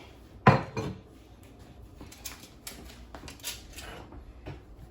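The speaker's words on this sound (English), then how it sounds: "Let's give this a good whisk." A utensil scrapes and clinks against a pot holding shrimp and salmon, one sharp metallic knock followed by lighter irregular taps and stirring clatter at close range.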